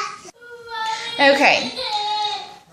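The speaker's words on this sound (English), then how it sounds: "as you can hear him crying" A young boy cries in a wavering, rising and falling wail near the microphone, mixed with an adult's speech, during a makeup application at home.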